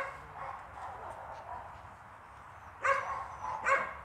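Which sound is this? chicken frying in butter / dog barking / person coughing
dog barking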